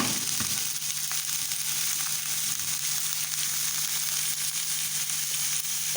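Chicken sizzles and fries in a spoonful of Dalda ghee in a pan, with a steady, loud hiss and crackle throughout and no voices.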